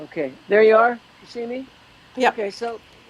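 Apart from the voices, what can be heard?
No distinct noise like a dog, phone or traffic.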